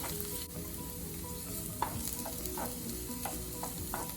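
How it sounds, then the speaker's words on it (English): Onions sizzling in a teaspoon of olive oil in a warmed pan, a steady close crackle and hiss running throughout with a few light clicks of a utensil against the pan, no talking. "I've warmed up a pan with about a teaspoon of olive oil, and now we're just gonna add our onions"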